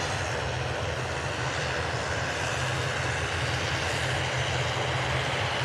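An EasyJet airliner departs Manchester Airport, its engines producing a loud, steady broadband roar that fills the whole stretch without a break.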